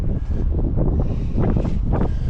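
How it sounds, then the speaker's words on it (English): Loud, gusty wind buffets the microphone in rough, rumbling bursts that continue without a break, outdoors at a tractor auction. "Having a hard time holding it because it's so windy."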